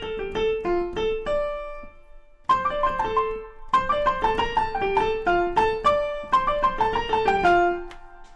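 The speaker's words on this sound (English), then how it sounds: "The very main theme of Here We Are, it's the first piece of music you hear in the entire score." Main theme from the overture of the musical Here We Are: an instrumental melody of bright, repeated note patterns, recorded and played alone, with a short break partway through.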